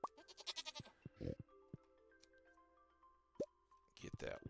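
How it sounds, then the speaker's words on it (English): Sheep and goats bleat in the farm game Stardew Valley, with several short animal calls and plopping blips spread between soft game chimes and interface tones. "There's my sheep all woolly and ready for shearing."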